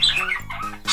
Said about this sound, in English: We have a very rowdy bird over there.